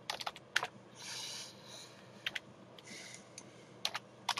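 Keyboard shortcuts typed on a computer keyboard while working in Blender: scattered close, crisp keystroke clicks in short bursts, some single and some clustered, with no talk.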